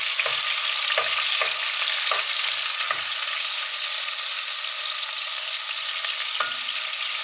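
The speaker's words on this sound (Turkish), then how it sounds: "Tavuğumuzu döküyoruz." Chicken fries in hot oil in a pot, a steady, dense crackling hiss with occasional soft clunks and stirs, no voices.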